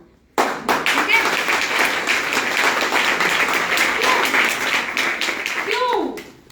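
Audience clapping fills a hall, a dense, steady round of applause starting abruptly and carrying on throughout, with voices briefly rising above it near the end.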